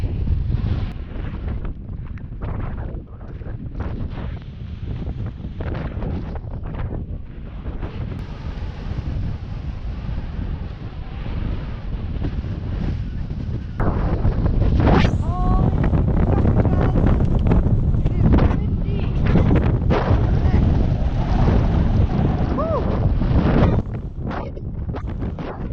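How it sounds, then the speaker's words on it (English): Strong wind gusting across an open Icelandic landscape near a mountain, buffeting the microphone with heavy low rumble, growing louder midway and staying rough and continuous, no talking. "It's windy."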